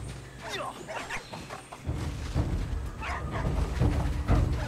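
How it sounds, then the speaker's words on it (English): Bush dogs in the Soulmask video game yip and whimper in a rain forest, mixed with game ambience and some talk. "I do see some bush dogs"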